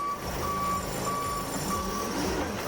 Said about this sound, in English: Right now my beeper is going and my light is on.